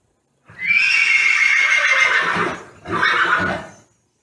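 A horse gives two loud, close whinnies during barrel-riding practice: a long, shrill neigh, then a brief pause and a shorter second call. No one speaks.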